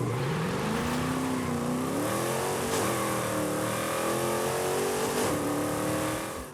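Ginetta G10 RM race car engine in Forza Horizon 5 revving and accelerating, a loud buzzy engine tone climbing through gears with brief shift dips, steady and close with no voices.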